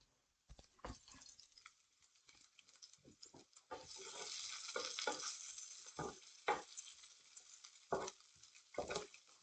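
Peppers and onions frying in a pan make a faint, low sizzle broken by scattered crackles, pops and soft clatters from stirring.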